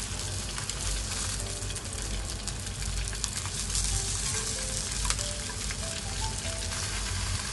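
Bacon-wrapped enoki mushrooms sizzle steadily in a frying pan, a dense, even crackle of hot fat with small pops, holding close and loud throughout with no talking.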